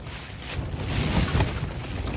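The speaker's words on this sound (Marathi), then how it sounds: "कसला वारा सुटलाय जोरात एकदम" Steady, strong wind gusting and rushing against the microphone at the Aai Barunda Devi temple in Virar, a low roar that swells slightly midway, with no voices.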